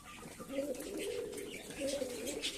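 Several Giribaz pigeons, including White Mukhi and Kaldoma birds, coo softly and continuously in a loft, a low rolling murmur that rises and falls in two swells amid faint background hiss.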